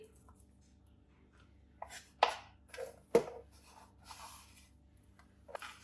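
A knife chops vegetables on a board in a quiet kitchen, a few scattered sharp taps with short brushing scrapes between them, close and alone.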